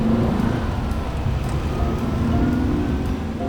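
A Porsche 356 B Super 90 engine runs loud and close after starting, a rough, steady mechanical rumble with no talking over it.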